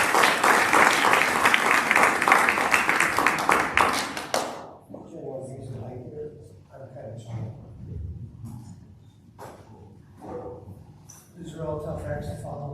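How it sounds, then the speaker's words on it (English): Audience applause at a cabaret follows a singer-guitarist's musical act: a dense burst of clapping for about four seconds, then dying off into scattered claps and crowd murmur. "Why don't you give him a round of applause?"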